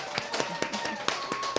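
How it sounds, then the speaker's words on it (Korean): A church congregation at a Christmas worship service claps together at a moderate distance, a loose, irregular run of sharp hand claps that stays fairly soft throughout. "우리 같이 박수 한 번 더 해줬으면 좋겠습니다."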